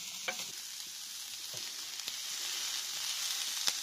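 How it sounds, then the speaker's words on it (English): Potatoes fry in a pan with a steady, bright sizzle, close and constant, punctuated by a few soft clicks and stirring scrapes, and no voices. "There's my potatoes and my spuds. Just cooking away, lovely."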